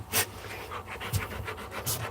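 A freshly cleaned dog pants in quick, steady, rhythmic breaths close to the microphone, alone with no talking.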